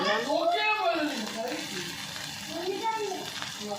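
Chopped onion and tomato fry in a pan with a soft, steady sizzle and stirring, mostly underneath a person talking.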